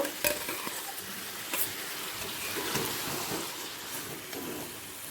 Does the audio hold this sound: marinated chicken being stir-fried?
yes